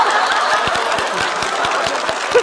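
Applause from a studio audience at a comedy roast show: a few hands clap in a light, regular patter, with faint chuckling mixed in.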